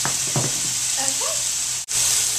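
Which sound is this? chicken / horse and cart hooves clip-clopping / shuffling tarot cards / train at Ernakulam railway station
chicken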